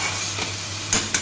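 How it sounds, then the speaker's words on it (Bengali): Garlic and green chilli fry lightly in hot oil for a simple chicken curry, a loud, close, continuous sizzle broken by two quick scrapes of a spoon against the pan. "রসুন আর লঙ্কাটা হালকা ভেজে নিয়েছি"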